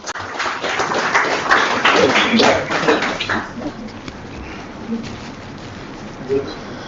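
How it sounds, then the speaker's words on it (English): Renewed clapping from a workshop crowd for a department head, loud and dense at first, then thinning out into sparse claps as a voice comes in over the fading sound. "Please give him a round of applause again"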